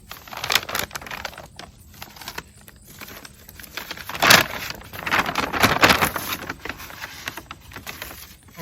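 A paper bag crinkles and rustles as cut geranium plants are placed inside for overwintering, irregular close crackling bursts with louder crumples in the middle, no talking.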